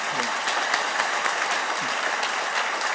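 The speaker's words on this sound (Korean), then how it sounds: "우리 그동안 참 수고하셨다고 우리 박수하겠습니다" Church congregation at a Korean Sunday service applauding a pastor's family, a dense, steady wash of clapping heard alone.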